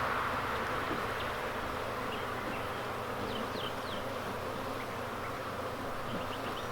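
Honey bees swarm around an open hive during an inspection, a dense, steady buzzing drone close by with individual bees zipping past, and no voices.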